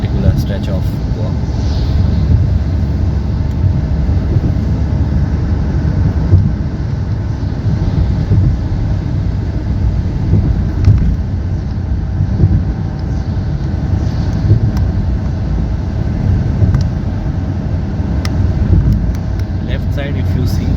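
A car cruises the NH66 highway through Goa on a monsoon drive, its engine and road noise forming a loud, steady rumble throughout, with a voice faintly present beneath.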